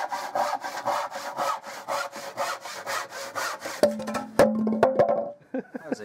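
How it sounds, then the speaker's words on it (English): A handsaw cuts a piece of spruce wood in steady, rhythmic back-and-forth strokes, close and loud, then breaks off into a few sharp knocks and clatters as the cut finishes. "Then Alex cut it to a more manageable size with a handsaw."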